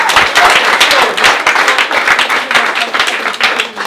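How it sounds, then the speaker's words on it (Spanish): A congregation applauds the pastor at the close of a family Mass and blessing, with loud, sustained clapping from many hands that continues steadily for several seconds. "Un aplauso por Pastor."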